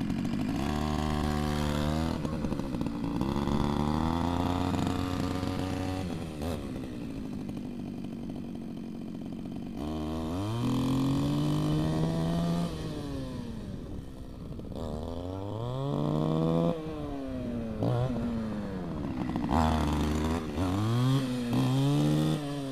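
A small engine on a homemade RC Invacare vehicle runs near full throttle, a loud buzzing two-stroke-like whine that repeatedly revs up and drops back in sweeping surges, close up with no voices.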